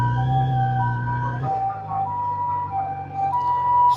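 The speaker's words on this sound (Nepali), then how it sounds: "एम्बुलेन्स आयो कताबाट, पछाडि आएछ" An ambulance siren in Tokyo sounds from behind, loud and close, its wailing tones holding steady and then shifting pitch over a background of traffic.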